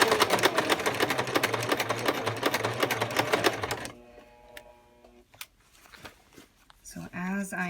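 A sewing machine stitches a waistband in a fast, rhythmic run for about four seconds, then stops. Quieter handling noises follow, and a voice speaks near the end.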